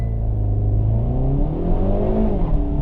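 A 2022 Hyundai Veloster N with DCT gearbox, running launch control, revs and accelerates hard, with loud engine tones rising and stepping through gear changes.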